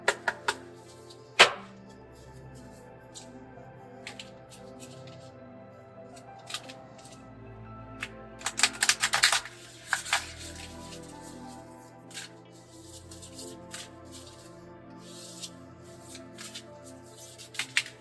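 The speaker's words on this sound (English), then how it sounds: "Okay, so I'm just going to shuffle this deck here." A short burst of riffling tarot cards midway, a quick flurry of papery clicks, with scattered soft handling taps before and after against a quiet room.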